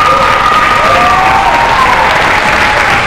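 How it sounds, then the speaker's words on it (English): An audience applauds a school fitness jump rope team in a dense, loud, sustained round of clapping with no break. "Give them all a nice hand, please"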